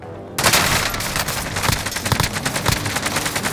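Rapid automatic gunfire in Call of Duty Modern Warfare, dense loud bursts of overlapping shots starting abruptly and continuing without pause, with sharp cracks and low booms mixed in.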